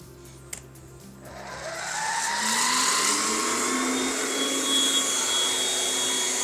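A Philips Speed Pro compact vacuum cleaner starts up and climbs into a loud, steady whine and whoosh of suction that holds for several seconds.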